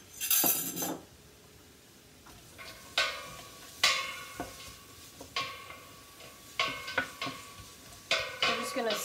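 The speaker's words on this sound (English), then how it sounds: "I'm just gonna saute these up a little bit." Vegetables for a Mexican vegetable soup are sautéed in warm oil in a pan: scattered spoon scrapes and clinks against the pan sound over a faint, low sizzle.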